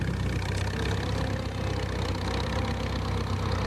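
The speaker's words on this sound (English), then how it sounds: "this is an example of a tractor that's survived from another age, the good old Fordson N" A Fordson N tractor engine idles steadily at a ploughing championship, a loud, continuous low rumble with an even rhythmic throb throughout, no voices over it.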